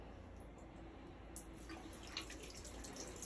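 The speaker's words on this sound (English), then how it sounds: "Wet hands with water." Tap water running steadily into a sink while hands are wetted for handwashing, a quiet continuous splashing stream with a few faint drips, heard alone.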